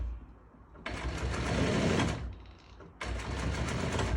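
A sewing machine stitches upholstery fabric for a rock-and-roll sofa bed in two loud, close runs. The first run lasts about a second and a half and the second starts after a short pause, with low mechanical hum in between.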